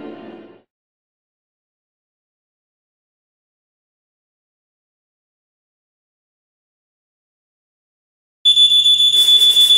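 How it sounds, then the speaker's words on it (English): A smoke detector set off by a fog machine bursts in after a long stretch of silence, emitting a loud, piercing, rapidly pulsing electronic beep that continues to the end. "See, this is what happens, Chris, when we try to use a fog machine. The smoke detector goes off"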